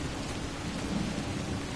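In the video game Death Stranding, a thunderstorm brings a steady, loud hiss of heavy rain and a low, brief thunder rumble midway, with no voices.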